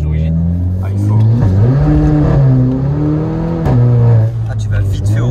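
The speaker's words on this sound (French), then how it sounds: "tu vas vite fait au rupteur avec ça" A car engine revs hard toward its rev limiter, the pitch climbing, dipping and climbing again as gears change, loud and close, with people talking over it.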